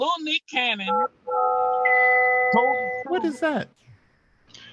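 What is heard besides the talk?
mobile phone ringing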